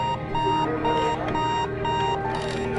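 A Sony Dream Machine electronic alarm clock beeps in a fast, repeating pattern of short tones, fairly loud and close, with a faint hum underneath.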